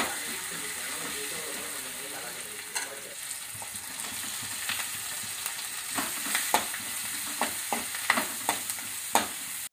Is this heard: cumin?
yes